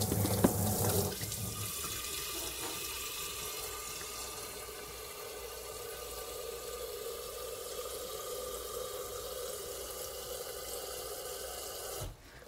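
Water runs steadily from a kitchen sink tap through a filter, a continuous close hiss and gurgle lasting about eleven seconds before it cuts off abruptly, with no voices.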